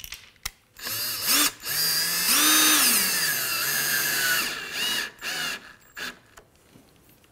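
A cordless drill drives fasteners through boat planking on a TotalBoat Sport Dory, with several close, loud whirring runs whose pitch climbs and drops as the screws bite, then shorter bursts and brief pauses.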